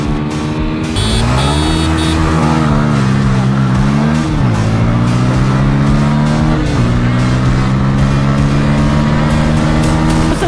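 Apache RTR 160 4V and Pulsar N160 motorcycles drag racing, loud engines revving and climbing through gears with rising pitch sweeps and shift drops, close and continuous for about ten seconds.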